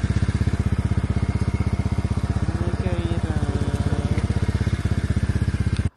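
Motorcycle ridden on a long road trip through rural Camarines Sur, engine thumping in a fast steady pulse close to the mic with wind rush, cutting off abruptly at the end.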